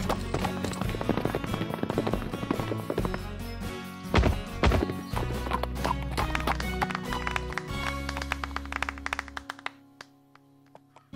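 Cartoon horses galloping toward a jump, with rapid drumming hoofbeats over a music score in a riding lesson scene that fade out near the end.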